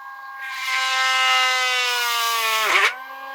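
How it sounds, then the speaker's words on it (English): A Dremel rotary tool drills into the neck of a hollow dinosaur figure at an angle, a steady high-pitched whine that runs loud for about two seconds, then dips in pitch as the bit bites and stops. "let us drill as a first test his neck"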